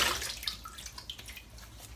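Cold tap water splashes and drips as a face is wetted by hand ahead of a wet shave, a few quick, soft wet splashes close by.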